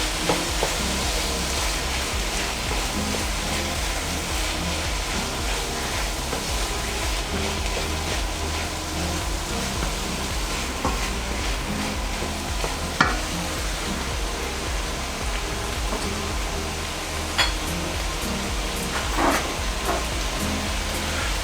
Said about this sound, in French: Donc on rajoute notre bœuf. Qu'on va saisir.